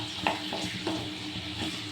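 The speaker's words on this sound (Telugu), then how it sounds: "పచ్చిమిర్చి తీసుకున్నాను. ఆయిల్ వేసి ఫ్రై చేసుకోవాలి." Green chillies fry in hot oil for a tomato chutney, a steady close sizzle with soft stirring clicks from a spoon against the pan.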